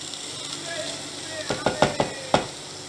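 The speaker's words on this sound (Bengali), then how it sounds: "এবার সব জিনিসগুলোকে 30 সেকেন্ড নেড়ে নেব।" A banana flower mixture for Bengali mochar ghonto fries in a pan: a steady soft sizzle, then a quick run of five sharp scraping clicks as a spoon stirs and knocks against the pan.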